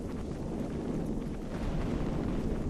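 Airstrikes in a multiplayer war video game pound continuously as a dense, loud rumble of overlapping explosions with no gaps, booming low and steady throughout.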